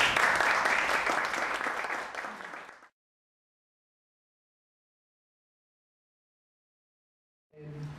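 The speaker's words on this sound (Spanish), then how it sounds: "Un aplauso para ellos, por favor." A forum audience applauds the moderators, a loud burst of crowd clapping that fades out after about three seconds, followed by silence and then a faint return of room sound.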